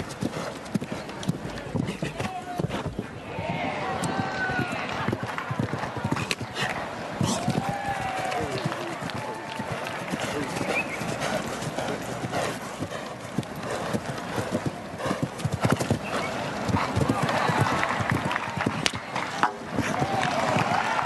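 Rhythmic hoofbeats of a galloping show-jumping horse thud steadily under a commentator's voice as it builds toward a water jump at a Nations' Cup, with crowd noise in the background.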